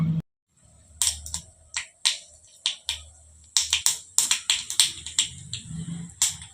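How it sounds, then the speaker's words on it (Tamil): Mustard seeds and urad dal in about two spoons of hot oil pop and crackle as sharp, irregular clicks, some in quick bursts, close and fairly loud against a quiet background. "கடுகு பொரியட்டும்."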